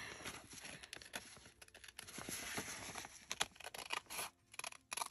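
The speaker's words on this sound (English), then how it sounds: "I'm going to go ahead and I'm going to cut this." Quiet, repeated snipping and scratchy crunching as scissors cut a thin sliver of paper, irregular and close, with small pauses between cuts.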